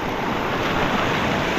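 A stream rushes in the Philippines during eel (igat) hunting, giving a loud, constant broadband wash of flowing water with no pauses and no one speaking.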